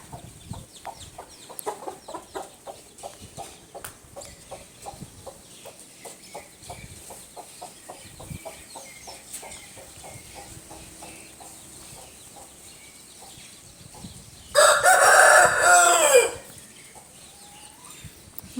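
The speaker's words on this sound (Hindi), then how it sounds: "देखो मुझे देखो पुकार ले रहा मुर्गा" A rooster crows once, loud and close, near the end of a rural Indian early morning. Soft, rhythmic clucking from the hens runs throughout before it.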